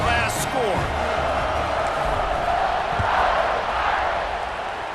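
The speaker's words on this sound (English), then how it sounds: "this crowd is buzzing after that last score" Football stadium crowd roaring continuously after a touchdown in a Florida State versus Notre Dame game, a dense, loud wash of cheering with a commentator talking over it.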